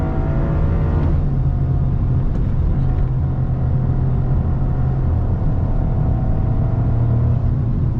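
A Toyota GR Corolla with an automatic transmission accelerates hard at full throttle, its engine a loud, steady low rumble that builds continuously through the whole stretch with no gaps.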